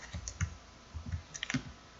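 Computer keyboard keys tapped in short, irregular bursts of clicks, close and fairly quiet, with no voices.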